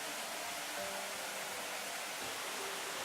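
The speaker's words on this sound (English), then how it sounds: "Source of all the noise, River Cam." Rushing water of the River Cam beside a disused railway near the Dursley terminus, a steady broadband roar of flowing river with no voices, loud and continuous throughout.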